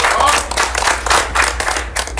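Audience clapping for a player seated at a poker tournament final table in a casino in East Chicago, a steady round of applause filling the room for a couple of seconds with no speech over it.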